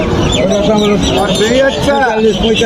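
Soft pigeon calls and cooing mixed into busy, close chatter from several people at a livestock market in Panchbibi, Bangladesh, continuous throughout.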